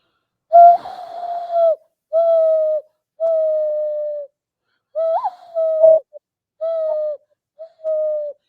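A person imitates an owl with a series of about seven drawn-out, hollow hooting tones, evenly spaced with short silences between, close and clear.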